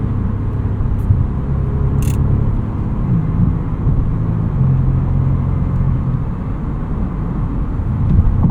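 A 2025 Porsche Panamera GTS with its naturally aspirated V8 on the move, a loud, steady low engine drone and road rumble heard from inside the cabin, with faint brief high beeps.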